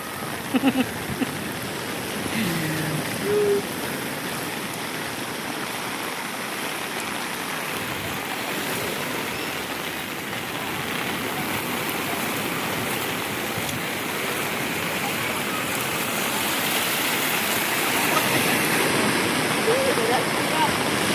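Loud, continuous roar of rough surf crashing nearby at Patungan Beach in the rain, a dense wash of water noise with a few faint voices in the background.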